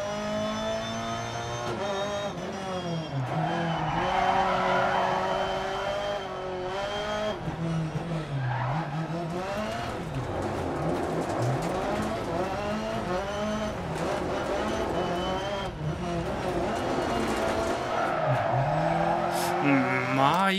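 A rally car in Dirt Rally 2.0 drifts with handbrake turns, its engine revving up and down and its tires squealing and skidding repeatedly over about twenty seconds, with someone talking over the driving.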